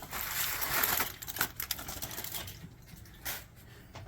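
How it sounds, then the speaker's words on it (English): Aluminium foil is peeled off a rested holiday ham, giving close crinkling and crackling rustles that come in bursts over a few seconds, without talk. "I'm going to get rid of this foil."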